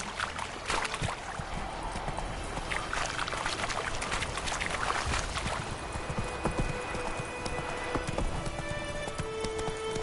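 Roach, a horse in The Witcher 3, trots along with a steady clip-clop of hooves at close range, carrying on for about ten seconds beneath faint game ambience.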